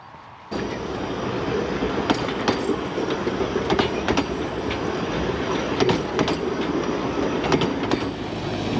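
A train rolls by close on the rails, a loud steady rumble with rhythmic clicks and clanks from the wheels over track joints.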